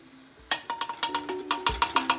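Garam masala frying in hot oil in a home kitchen pan, a series of short sharp sizzles and clinks bursting out in quick irregular pulses after a quiet start, close and fairly loud.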